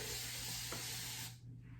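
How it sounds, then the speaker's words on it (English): A spray bottle mists diluted styling gel onto damp hair in one steady, close hiss lasting over a second. It cuts off abruptly near the end, and no one speaks. "This spray bottle, by the way, is one of my favorites"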